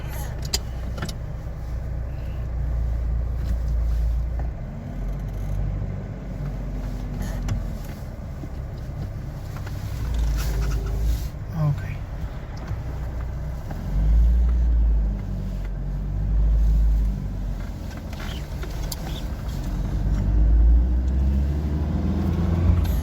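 Petrol-fuelled Polonez Caro driving along, its engine a steady low rumble with road noise inside the cabin and occasional clicks and knocks, running fairly evenly throughout.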